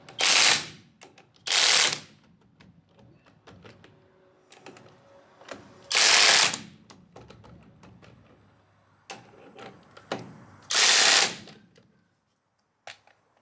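SEESII cordless 1/2-inch impact wrench hammering, four loud, close bursts of rapid rattling impacts, each about a second long, separated by quieter pauses with faint handling clicks.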